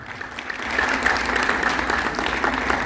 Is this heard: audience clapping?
yes